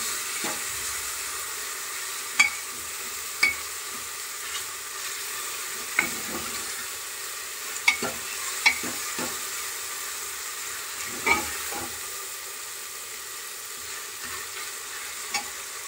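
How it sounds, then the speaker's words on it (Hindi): Mixed vegetables for a vegetable pulao sauté in a pan, giving a steady soft sizzle with intermittent sharp scrapes and clinks of stirring spread through, no voices. "अब मैं इन्हें 2 से 3 मिनट तक भून लूंगी।"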